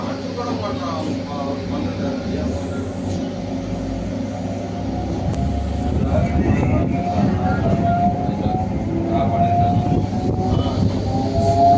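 A local EMU electric train from Tiruttani to Chennai Central rumbles steadily along the tracks near Hindu College station, its motor whine rising in pitch as it gathers speed, with a voice talking over it.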